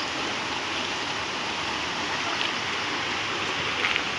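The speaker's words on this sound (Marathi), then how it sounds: "आणि ही पवना नदी आहे." The flooded Pavana river rushes past in a constant, even roar of churning water with no letup, heard from close by.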